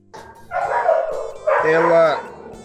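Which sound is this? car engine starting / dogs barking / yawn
dogs barking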